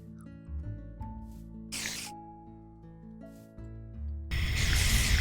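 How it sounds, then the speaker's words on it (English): A loud hissing spray of biodiesel from a chemical thrower in Immersive Engineering bursts out twice, then a longer harsh rush at the end, over a steady low droning game soundtrack. "So if I spray it up into the air and let it land on me"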